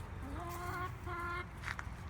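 Chickens cluck close by during morning chores, with two drawn-out rising calls over a low background murmur.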